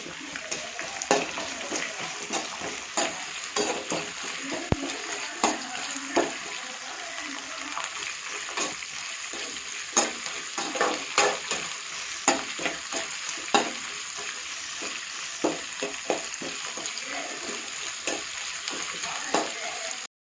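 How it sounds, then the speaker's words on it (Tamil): Onions and dried red chillies sizzle and fry in a pan for a spicy Tamil onion-tomato chutney, with steady crackling and repeated spoon-stirring scrapes throughout. "இது நல்லா வதங்கினதுக்கப்புறம் தக்காளி சேர்த்துக்கலாம்."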